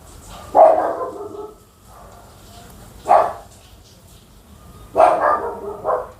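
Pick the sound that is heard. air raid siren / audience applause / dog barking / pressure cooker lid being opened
dog barking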